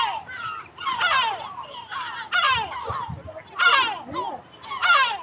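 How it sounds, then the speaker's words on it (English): Seagulls call by the water in Northern Ireland. They give repeated loud, harsh squawking cries in bursts at a fairly close distance, with gaps between the calls. "Yeah, seagulls. Yeah, there's loads of them here."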